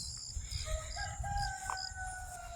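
Chickens on a rain-soaked farm, with a rooster's drawn-out crow rising faintly over low background rumble, a few softer clucks and calls around it.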